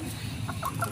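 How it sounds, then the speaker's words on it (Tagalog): A hen clucks softly in a few short notes over a steady low background rumble. "Ayan ang aming inahin."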